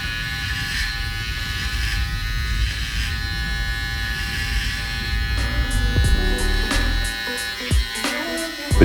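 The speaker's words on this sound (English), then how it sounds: "This video is only gonna show you predominantly me doing the work with the trimmer." A Babyliss Lo-Pro FX One electric hair trimmer cuts hair for a fade, giving a steady, close, continuous buzz that runs the whole time and grows a little rougher near the end, with no talking.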